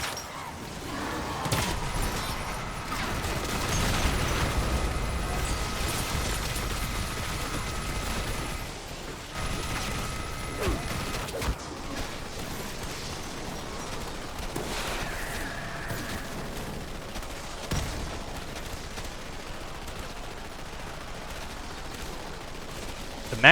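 Gunfire from the Dead Ops Arcade 4 video game rattles in sustained rapid bursts, fairly quiet in the mix, with game effects and tonal chimes over a busy background.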